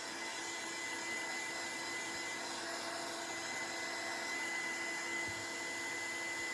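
A heat tool dries paint on a mixed-media craft project, giving a steady, even blowing whir that holds without a break throughout, fairly quiet and close with no speech.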